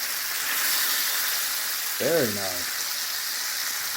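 Pork steak searing in a hot pan, a continuous broad sizzle running throughout, with a short spoken comment partway through.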